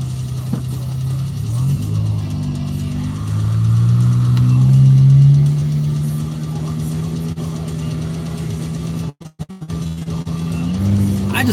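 Wet, ceramic-coated car pulling hard on a highway, heard from inside: a loud, close engine drone rises in pitch as it accelerates, eases off, then climbs again after a brief dropout.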